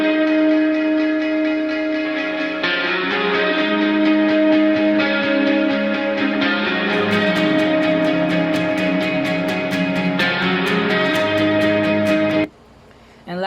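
Two electric lead guitars layered an octave apart play the same melody together in a produced pop-rock track, loud and sustained with effects, a busy band mix behind them, cutting off abruptly near the end.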